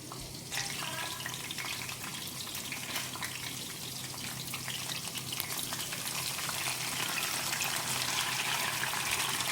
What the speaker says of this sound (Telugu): ఇదైతే కొంచెంసేపు ఫ్రై అయ్యే వరకు ఇలా తిప్పుకోవాలి.